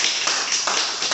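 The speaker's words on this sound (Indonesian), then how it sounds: "Tepuk tangan dulu untuk Anda semua." A seminar audience claps together, a short burst of steady, fairly loud applause filling the room with no voices over it.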